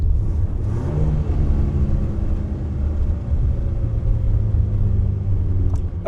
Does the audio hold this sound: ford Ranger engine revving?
yes